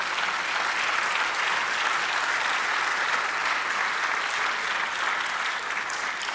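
A church congregation applauds together in a steady, dense wash of clapping that stays loud and even throughout, with no pause or letup, and no talk heard over it.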